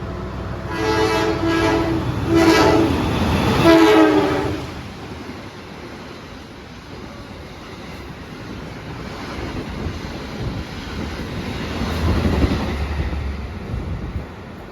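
A passenger train rumbles past with a loud rushing roar and rhythmic clatter early on, then fades to steady rolling noise with another swell near the end.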